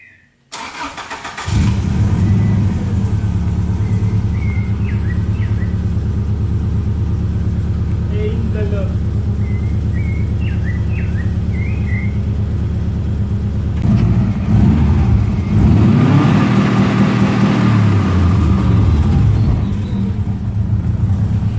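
Subaru engine cranking and catching, then settling into a steady idle with occasional short revs and a stronger rev midway, close up, with people talking briefly over it.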